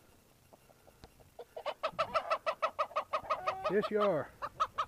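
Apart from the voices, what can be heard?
chickens clucking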